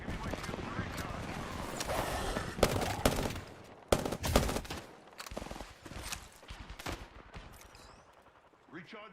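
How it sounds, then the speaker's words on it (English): Knuckle cluster weapon firing in a video game, a rapid burst of heavy, punchy shots with sharp loud bangs that break up into separate blasts, while a voice talks over the barrage. "Stand back, knuckle cluster's firing."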